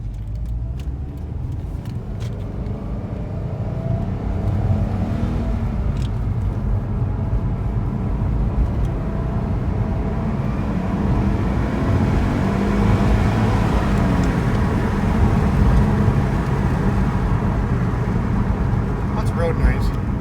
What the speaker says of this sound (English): Road noise.